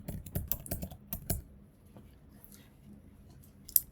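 Computer keyboard keys tapped in short rapid bursts while lab test values are entered into hospital management software, a quick cluster of clicks early on followed by sparse faint taps and one sharp click near the end.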